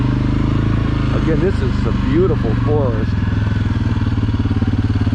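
An ATV engine drones steadily at close range on a tight Black Lake forest trail in Michigan, its throttle pulses rising and falling while someone talks over it.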